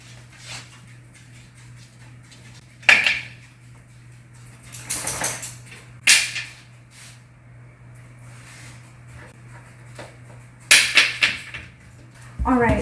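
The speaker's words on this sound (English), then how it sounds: "So I'm going to go ahead and pull this lid off." A pressure canner lid is lifted off after the pressure has dropped, with hot jars of homemade corned beef inside; a few sharp metallic clanks and glassy clinks ring out against a steady low hum, separated by quiet pauses.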